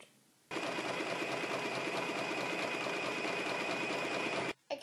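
A sewing machine runs a steady, continuous stitching burst of about four seconds at close range while sewing a fabric phone sock, starting and stopping abruptly.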